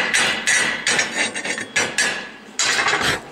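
A hammer chips slag off a 7018 stick weld in a quick series of sharp metallic strikes and scrapes, close and fairly loud, with brief pauses between bursts.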